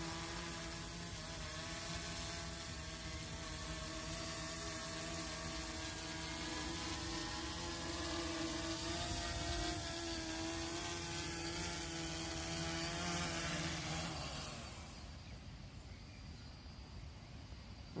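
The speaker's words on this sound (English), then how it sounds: "Right, let us land the copter now." An Erle Copter drone hovers with a steady multi-tone rotor whine while landing in light rain, then the motors cut out abruptly near the end and only faint background noise remains.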